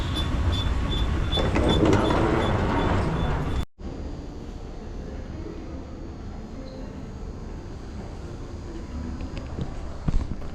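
An airport shuttle train to the car rental area in Miami rumbles steadily with a faint repeating beep, then after a brief cut the ride continues as a quieter, even hum with soft clatter.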